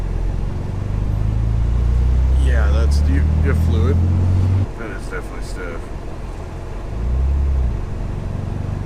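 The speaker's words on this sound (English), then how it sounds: "Those turbos sound so good." A barn-find Nissan 300ZX twin turbo being rebuilt rumbles and hums steadily from inside the cabin while driving, with a low engine drone that swells and dips, heard under voices talking.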